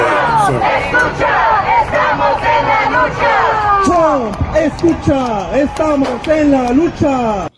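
Dense crowd of rioters in Los Angeles shouting and chanting together, a loud, continuous wall of overlapping raised voices with rising and falling yells throughout.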